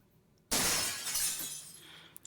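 A glass vase smashes onto the floor after being knocked off a side table. A sudden loud crash is followed by about a second and a half of bright shattering and tinkling shards that slowly fade, with a couple of small clinks at the end.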